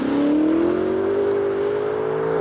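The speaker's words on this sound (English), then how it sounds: "the S85 produces a metallic, mechanical wail that gets more intense as it climbs" BMW S85 5-liter V10 from a luxury sedan revving, a smooth metallic wail climbing steadily in pitch and then holding high, loud and close with no speech.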